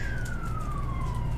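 An emergency siren sounds outside, one steady wailing tone that slowly drops in pitch as the vehicle passes, over a low rumble of traffic, moderately loud with no voices.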